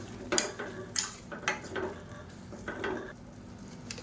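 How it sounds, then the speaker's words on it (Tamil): Potatoes and soaked peas are stirred in a pan for a peas and potato curry, soft sizzling under a handful of spaced scraping and clinking strokes from a utensil, close but fairly quiet, with no voices. "இப்போ இதோடு சேர்த்து இதையும் நல்லா கிளறி விட்டுக்கலாம்"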